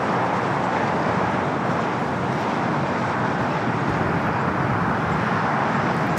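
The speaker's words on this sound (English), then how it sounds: "The flight heading to Lima, Peru, taking off there on the north side." A Boeing 767-300 airliner bound for Lima, Peru, takes off on the north side of LAX, its engines a steady, broad roar that holds constant throughout, moderately loud and unbroken by voices.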